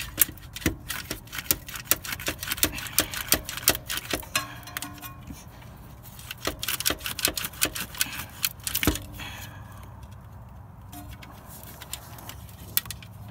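A swivel wrench works the alternator bolts on a Toyota, giving a run of irregular metallic clicks and ratcheting taps, close and sharp, with quieter spells between bursts.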